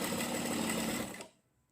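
Sewing machine stitching the pocket of a full-flare palazzo, a close steady whirring run that stops abruptly after just over a second, leaving near silence.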